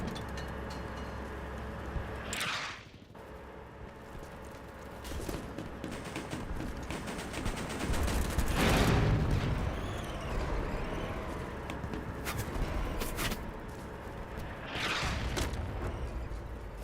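Sniper and SMG fire sounds in the video game BattleBit, with sharp bursts and loud cracks breaking through a rumbling background of battle noise, spaced out rather than continuous.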